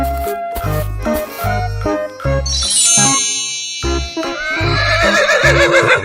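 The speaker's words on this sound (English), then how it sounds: "Horse." A recorded horse neighs loudly over a bright, thumping children's tune with dings and jingles, the whinny stretching through the latter half; no one speaks.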